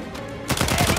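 Rapid gunfire in the video game Uncharted 4 bursts in halfway through, a loud dense volley of repeated shots after a brief quieter lead-in.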